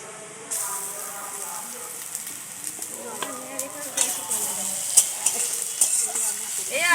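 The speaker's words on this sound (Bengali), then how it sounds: "এবারে দিয়ে দেবো আদা রসুন বাটা।" Onions with ginger-garlic paste fry and sizzle in a pan for egg biryani, with steady hiss and occasional stirring scrapes and clinks, close and moderately loud throughout.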